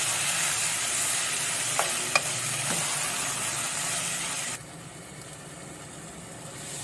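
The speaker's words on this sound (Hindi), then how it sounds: "कीमे को भून लेंगे प्याज के साथ जब तक इसका कलर चेंज हो जाए।" Minced meat frying with onions in a pan, a steady close sizzle with a few scraping stir clicks, then the hiss drops quieter partway through.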